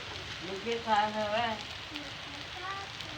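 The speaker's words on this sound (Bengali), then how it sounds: "বৃষ্টি হচ্ছে প্রচুর।" Heavy rain falling outside on a dark day gives a steady, even hiss through the whole stretch, while a voice talks briefly over it.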